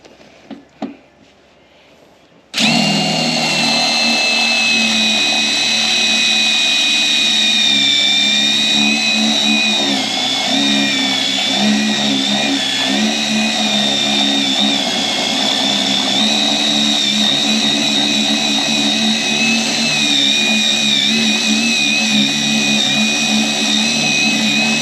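A power drill bores through a wall, starting abruptly after a few quiet seconds with a loud, sustained high whine over grinding rumble that wavers slightly in pitch and holds steady to the end.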